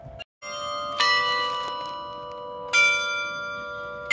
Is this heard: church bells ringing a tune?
yes